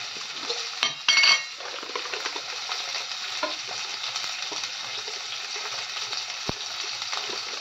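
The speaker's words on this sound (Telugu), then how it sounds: "ఉల్లిపాయలు వేగాయమ్మా? ఉల్లిపాయలు కొంచెం వేగితే చాలు." Onions fry in oil in a pan for a brinjal curry, giving a steady close sizzle with brief utensil stirring and clinks near the start.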